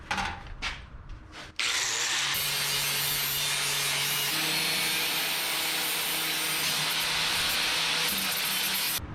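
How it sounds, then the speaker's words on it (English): A grinder with a flap disc grinding metal spins up abruptly and grinds on steadily with a harsh, loud hiss and whine, close by, after a few brief scraping sounds. "for our cleanup here, we're gonna use a flapper disc"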